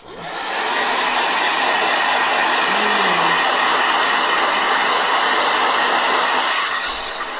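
A blow dryer runs loud and steady at close range, a constant whooshing roar that starts up and holds for several seconds.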